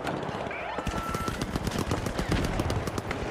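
Rapid bursts of automatic turret gunfire in the video game The Finals, loud and close, with dense repeated shots running continuously throughout and no talk over them.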